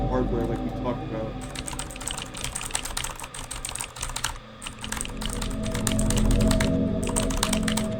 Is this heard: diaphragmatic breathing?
no